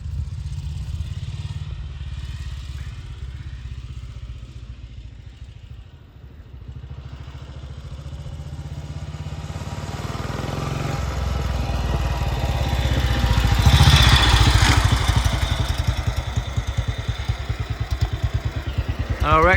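The engine of a 1942 BSA WM20 motorcycle running, a steady mid-pitched thumping idle that rises to a louder, harsher rev before settling, heard close, with a voice talking under it.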